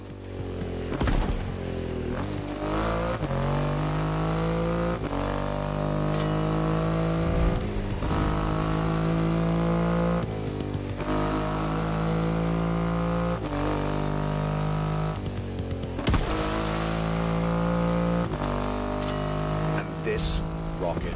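Triumph Rocket 3 motorcycle with a 2.5-litre engine in The Crew Motorfest racing game, a steady deep engine drone with shifting revs throughout, rising and falling in pitch under music-like tones and voice.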